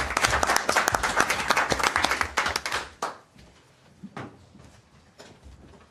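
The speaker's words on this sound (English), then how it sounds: "Let's give them a round of applause and thank them" A council meeting audience applauds volunteer firefighters with a loud burst of dense clapping for about three seconds, which then thins to a few scattered claps in a quieter room.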